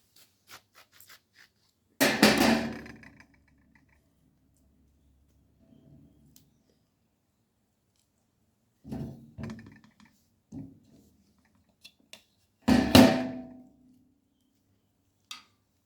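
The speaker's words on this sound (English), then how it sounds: "So you will just have to cut your lemon." A knife cuts through a lemon, likely on a board, in a few short bursts: a louder scraping cut, then several small taps and slices, then another strong cut, each separated by near silence.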